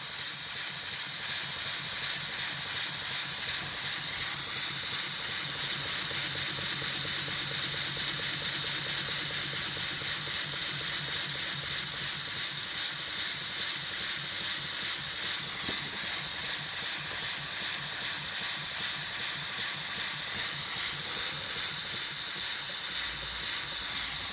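A model steam engine runs continuously, a steady hissing of steam over a fast, even mechanical chuffing that holds at the same level throughout.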